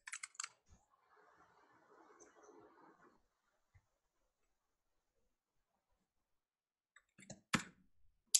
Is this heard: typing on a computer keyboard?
yes